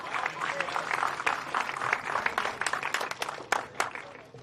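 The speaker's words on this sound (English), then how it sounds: "big round of applause for Mini" Audience applause at a motorsport academy race event in Al Ain, a dense sustained clapping from a crowd lasting throughout, with a few louder nearby claps standing out near the end.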